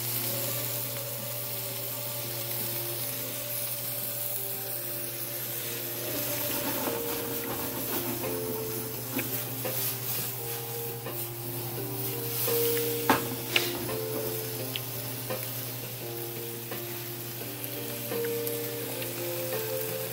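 Steak and peppers stir-frying for spicy BBQ chow mein, a steady close sizzle and hiss of the pan with occasional stirring clatter, running continuously with no talk over it.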